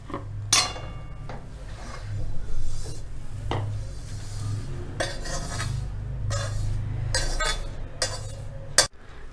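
Metal clinks and scrapes as roasted flattened rice (poha) is scooped out of a pan, with intermittent sharp utensil knocks over a low background hum.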